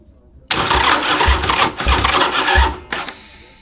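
A 2002 Harley-Davidson Sportster chopper, freshly rewired, cranks and fires up loudly after a brief quiet moment, its engine catching into a rough, rumbling run with a few uneven surges before dropping off near the end.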